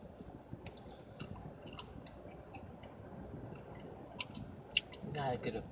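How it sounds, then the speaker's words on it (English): Double Bubble bubble gum being chewed close up, soft wet smacking and squishing clicks scattered irregularly over a quiet background, with a denser burst of moist chewing near the end. "Gotta get a good chew."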